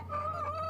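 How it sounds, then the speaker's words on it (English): A rooster in the video game Yes, Your Grace lets out a short, tonal, sustained call, heard alone, clear and fairly close. "A rooster?"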